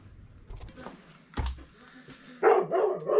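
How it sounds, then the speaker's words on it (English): In a garage during work on a Twin Cam chopper, a dog barks several times in a row, loud and close, after some thumps and scattered workshop noise. "ignore the dog, he's going to be at it again"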